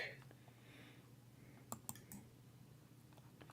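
Two or three crisp, faint mouse clicks sound close by against a quiet room hiss, with no one talking.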